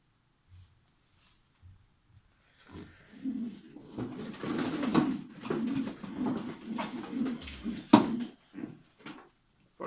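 Racing pigeons coo in low, throaty rolls, building to a steady burble of overlapping calls with a few soft flutters and knocks, close by.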